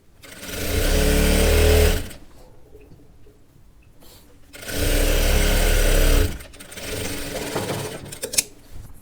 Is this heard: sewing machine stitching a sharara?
yes